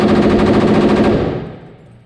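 A rapid burst of rifle fire at a shooting range, loud and close, with shots rattling in quick succession before fading into a short echoing tail.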